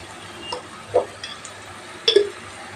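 Ginger garlic paste fries with onions in a pan for a fish curry, a faint steady sizzle broken by a few soft stirring clinks and scrapes.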